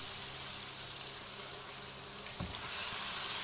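Roasted eggplant tipped into sizzling masala in a pan for baingan bharta, giving a steady close hiss of frying with a brief soft thump as it lands.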